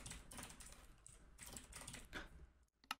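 Rapid clattering of computer keyboard keys, a fast irregular run of clicks heard up close and fairly faint, ending with a sharper final keystroke.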